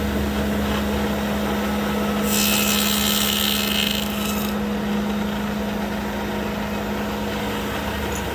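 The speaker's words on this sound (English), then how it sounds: "Use the dado to make a 1/4-inch cut." A dado blade on a table saw cutting a quarter-inch groove in wood for true divided-lite window parts, heard as a steady loud machine drone with a brighter, harsher cutting burst for about two seconds midway.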